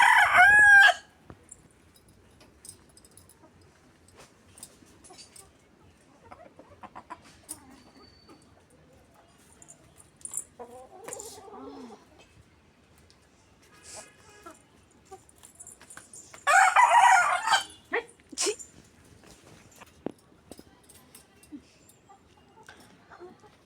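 Chickens clucking around a rural Bangladeshi home while a rooster crows loudly and close at the start and again mid-clip, with scattered bird calls and quiet household sounds between.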